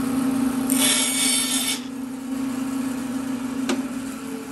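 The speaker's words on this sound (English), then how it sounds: "I'm going to bust this over to the handsaw here and see if I can't cut that to length" A handsaw cuts a wooden slat wall shelf brace to length, giving a bright rasping burst of about a second followed by a single sharp tap, heard alone over a steady background hum.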